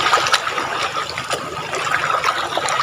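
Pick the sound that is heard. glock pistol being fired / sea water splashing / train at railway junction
sea water splashing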